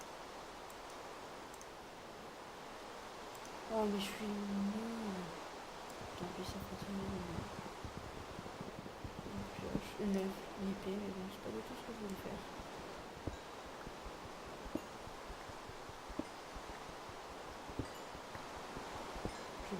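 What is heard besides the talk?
rain falling in Minecraft video game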